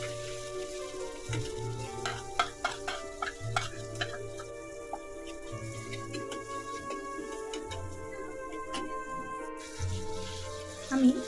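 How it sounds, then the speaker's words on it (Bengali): Ground spice paste for chicken dum biryani stir-fries in a pan, a steady sizzle broken by frequent clicks and scrapes of a spoon stirring, with a low hum running underneath. "মশলাগুলো সুন্দর করে কষিয়ে নিয়েছি"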